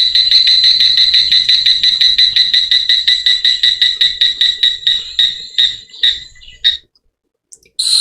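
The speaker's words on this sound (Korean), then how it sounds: "이런 매미 우는 이런 소리도 나고요." Cicada sound effect laid into a smartphone photo slideshow: a loud, steady pulsing buzz repeating rapidly for about six seconds, breaking into stuttering bursts before cutting to near silence.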